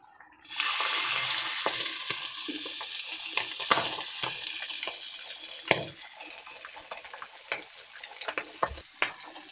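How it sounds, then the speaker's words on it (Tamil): Sardines (mathi fish) sizzle loudly in a little oil on a hot dosa griddle. A steady, close crackle of frying starts abruptly and continues throughout, with scattered pops and light clatter. "இதை தோசைக்கல் வச்சு அதில் எண்ணெய் ஊற்றி போட்டு ஃப்ரை பண்ணி எடுத்துடலாம்."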